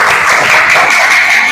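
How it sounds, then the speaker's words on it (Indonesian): A classroom of students claps together, loud and close, a dense continuous burst of many hands lasting a moment. "Tepuk tangan untuk kita semua."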